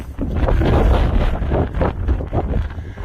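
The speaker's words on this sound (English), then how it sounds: "A bit windy today, but thankfully the weather's held out for us." Gusts of wind buffet the microphone with loud, rumbling, uneven bursts that rise and fall throughout.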